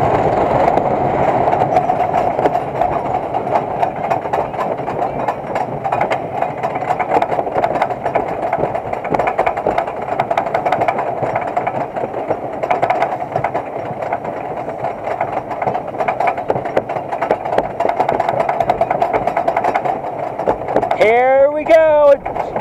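Front-row ride on the Ravine Flyer 2 roller coaster, a steady rumbling of the coaster train on its track that holds loud and even throughout, with a brief rising whistle-like sweep near the end.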